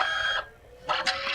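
A Canon CP1300 compact photo printer whirs and clicks, with two short bursts of mechanical feed noise separated by a brief lull.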